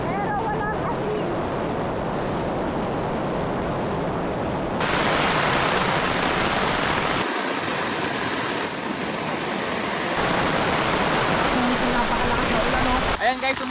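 Heavy storm rain pours steadily at a campsite, a dense broadband wash that swells louder partway through and stays constant, with a speaking voice over it.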